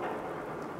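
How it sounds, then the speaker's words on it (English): Steady rain falling in the video game Fallout 4, a dense, even hiss of drops with a faint low rumble beneath, heard alone with no speech. "So it's like it's raining."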